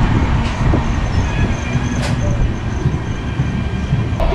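The Rajendra Nagar Terminal to Howrah superfast express pulls out of a station near Patna with a loud, steady rumble of rolling wagons and brief squeals heard from on board, without talk.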